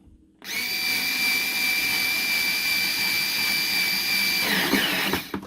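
A cordless MDBTTOOLS electric torque screwdriver with a 1500mAh battery tightens a screw, giving a steady high-pitched motor whine for about four seconds before winding down, close and with no talk.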